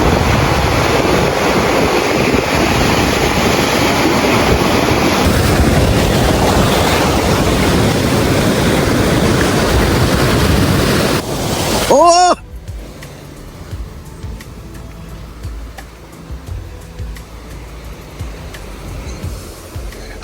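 Ocean waves break on a beach in Vizag, along one side of an ordinary public beach. Loud, rushing surf and wind noise fill the first twelve seconds, then the sound drops to a quieter, softer wash of water.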